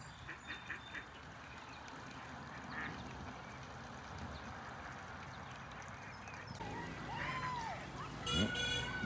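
Ducklings quacking faintly amid outdoor background noise, with a few short calls early on and a louder burst near the end, while a voice speaks at low level.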